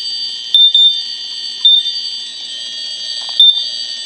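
A smoke alarm under test gives a loud, piercing, continuous high-pitched tone with short breaks and sharp chirps at roughly one-second intervals, close by and with no voices.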